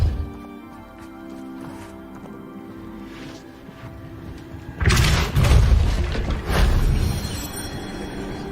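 Depulso force spell cast in Hogwarts Legacy, a sudden loud magical blast bursting in after a quieter stretch of low rumbling ambience, with a second strong surge following soon after.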